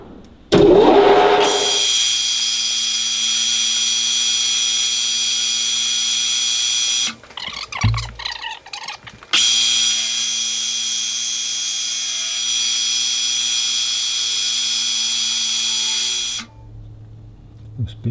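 Valve seats on a Ferguson TEA20 tractor engine being recut with a power tool, a steady loud whirring drone that halts briefly midway and then resumes for a long stretch before stopping.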